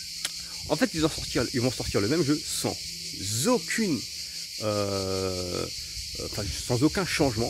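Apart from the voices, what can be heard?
cicadas chirping outdoors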